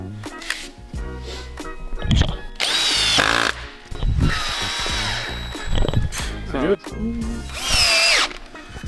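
A power drill drives screws while van furniture is assembled, sounding in loud bursts of whirring between pauses, with knocks and handling sounds and someone speaking close by.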